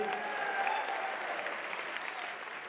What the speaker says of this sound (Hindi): मैं चाहूंगा जोरदार तालियां बजाएं सर के लिए।